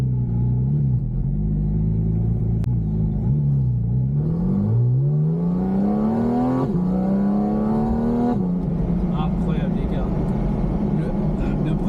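A Porsche GT4 RS with a naturally aspirated engine accelerates along a tight road, its loud in-car engine note climbing through rising revs with a gear change, while someone talks over it.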